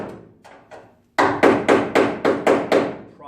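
Seven sharp, evenly spaced hammer blows drive a chisel into the cowl panel of a 1968 Pontiac GTO A-body, loud and close, after a few lighter taps.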